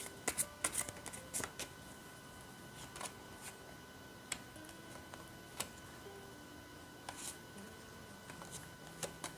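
Tarot cards are shuffled and handled in a quiet room, giving faint, scattered papery flicks and soft taps spread across several seconds, with no voice.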